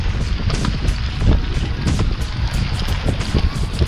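Rain falling during a trek up to Poon Hill from Ghorepani in Nepal, a steady close patter mixed with wind buffeting the microphone, no voices.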